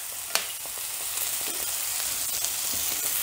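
Freeze-dried chopped celery sizzles in a hot pan, a steady crackling fry with a few sharp pops and faint stirring taps.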